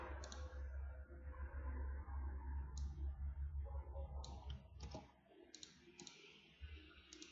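Sharp little computer mouse clicks scattered over a low, rumbling background hum, some arriving in quick double-click pairs, close and fairly quiet.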